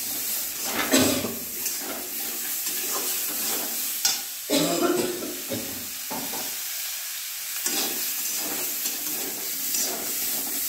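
Ginger and green chili paste with cumin stirred in a pan for chana, a steady sizzle under intermittent scraping strokes of a spoon, close and fairly loud with no voices.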